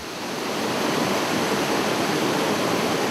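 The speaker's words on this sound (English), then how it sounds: "Hear the roar of this huge column of water, falling 800 feet at full force." Khandadar waterfall, a huge column of water plunging 800 feet at full force, gives a steady, loud, close roar of broadband rushing water with no other sounds.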